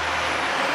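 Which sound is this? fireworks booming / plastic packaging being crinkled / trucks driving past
trucks driving past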